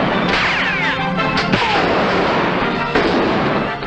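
Gunshots ring out in an old western film, a loud, dense burst of overlapping blasts with ricocheting whine, sustained throughout a short stretch.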